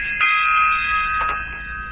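A struck metallic gong-like tone with bright ringing overtones that sustains and shimmers, with a second softer strike midway, all fairly loud and alone.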